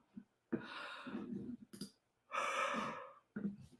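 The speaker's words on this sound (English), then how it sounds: "The yawns are strong." A woman yawns a couple of times indoors, two drawn-out breathy yawns with short gasps and sighs between them, fairly close and with no talking.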